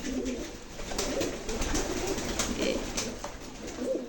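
Pigeons cooing, including a sick bird kept apart from the flock, with soft repeated coos over a rustling background, close by and without talk.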